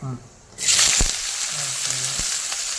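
Mustard seeds hit hot oil in a pan for a Malayalam ivy gourd and okra stir-fry, bursting into a loud, steady sizzle with scattered sharp pops and spluttering crackles that continue to the end.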